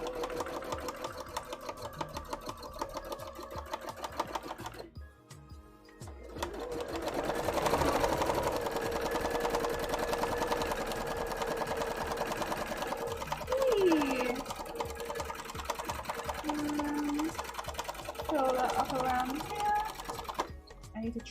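A sewing machine stitches orange cosplay fabric in close, loud whirring runs, pausing briefly around five seconds and again near the end, with faint voices in the background.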